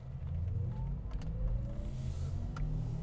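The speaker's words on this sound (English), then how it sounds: "The car lowers, and then you can hear a sound." A Porsche Taycan Turbo S lowering its suspension in Sport Plus mode makes a soft electric whir and faint rising futuristic tone over a low steady cabin hum.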